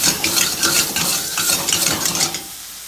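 Tomatoes and curry paste fry in a hot pan for a spicy chicken and bean soup, giving a steady close sizzle with stirring and scraping, loud throughout and fading slightly at the end, with no speech.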